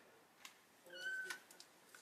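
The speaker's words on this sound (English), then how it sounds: "I hear you, kitty." A single short cat meow rises and holds briefly, close by and fairly soft, surrounded by faint clicks and quiet room noise.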